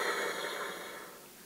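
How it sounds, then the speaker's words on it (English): Air rushes through a bassoon played without its reed, making a soft breathy hiss that fades over a second or so with no pitched tone. "If I play my bassoon without this special part called the reed, it sounds like this"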